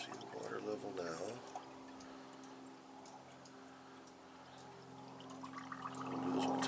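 Coolant mix glugs from a jug into the radiator of a 1991 GMC Jimmy, a faint, quiet pouring trickle with a soft ticking, and a voice at the start.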